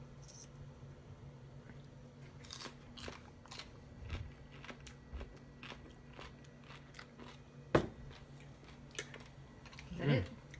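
Fire garlic pickles are bitten and chewed close to the microphone, giving a string of short wet crunches and one sharp bite near the end, with quiet voices now and then.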